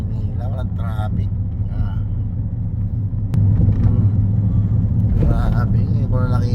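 A car drives through uncongested Manila roads, its steady low engine and road rumble continuous throughout and growing slightly louder midway, with faint speech-like sounds in the cabin.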